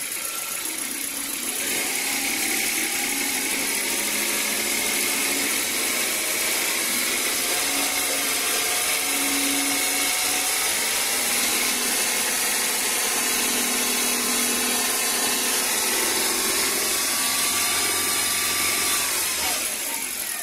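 A car engine is revved and held at around 2,500 RPM during a MAF sensor test with a voltmeter, giving a steady, close mechanical drone with a gradual change in pitch.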